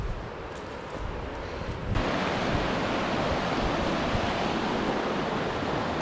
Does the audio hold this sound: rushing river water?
yes